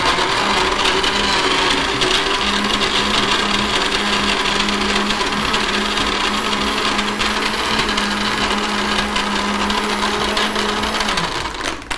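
A blender grinds immunity drink ingredients with a loud, steady motor whine that runs without a break, then winds down slightly at the very end.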